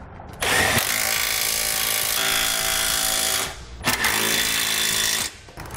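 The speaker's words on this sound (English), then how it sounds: "we'll use an 18 millimeter socket to tighten it down" Two long bursts of a power impact tool spinning an 18 mm socket to tighten trailer hitch bolts on a 2017 Nissan Murano, loud and close, with a brief pause between runs.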